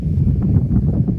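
Wind sweeps across an open grassy pasture in the UK, a steady low rumble of gusts hitting the microphone at moderate level, with no talking.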